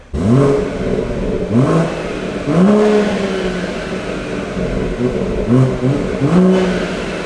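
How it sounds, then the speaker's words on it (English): A BMW M140i engine revved hard several times in quick bursts through its stock exhaust, each rev rising and falling, its exhaust note muffled and close. "we're going to get the before sound of the exhaust"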